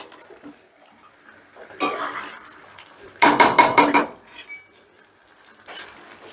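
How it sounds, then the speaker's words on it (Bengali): A lid is lifted off a pot of chicken with cashews, followed by a short burst of sharp metallic clinks and scrapes as the chicken is stirred, then a few quieter knocks before falling quiet. "বারবার ঢাকবো আর বারবার তুলে তুলে নেড়ে দেবো"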